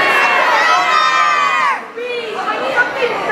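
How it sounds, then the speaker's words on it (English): Large convention crowd at a My Little Pony panel all yelling out guesses at the same moment, a dense, loud burst of overlapping voices and shouts that dips briefly then swells again with scattered whoops. "Everybody at the exact same time yell out what you think Scootaloo's cutie mark is going to be."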